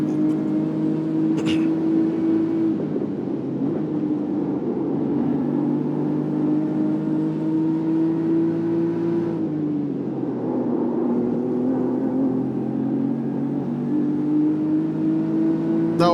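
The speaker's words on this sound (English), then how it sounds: "That engine screams, bro." A race car's high-revving engine wails continuously in a racing game at the Brands Hatch circuit, loud and steady, dipping in pitch once mid-run before climbing again, with no voices over it.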